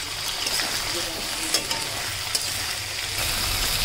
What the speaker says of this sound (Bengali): আমরা চর্বিটি দিয়ে দেওয়ার পরে সম্পূর্ণ উপকরণগুলি ভালো করে নেড়ে নেড়ে ভেজে নিয়েছি